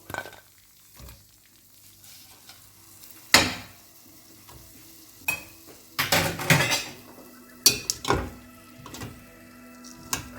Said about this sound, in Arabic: نحاول نمسح المعلقه